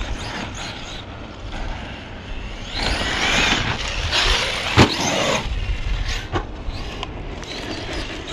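A Traxxas Sledge RC truggy runs on a track, its electric motor whining and rising in bursts between a few sharp knocks, close and fairly loud, with no talking.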